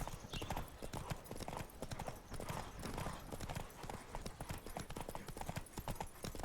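Horse hooves galloping in The Witcher 3: Wild Hunt, a steady rapid clip-clop that runs continuously and fairly close, with occasional faint snorting or whinnying mixed in.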